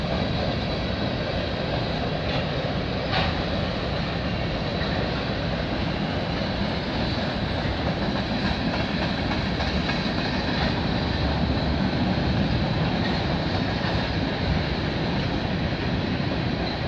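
A CN/CP freight train rolling slowly through Milton, Ontario, a steady rumbling roar with faint wheel and car noises, continuous and moderately distant throughout.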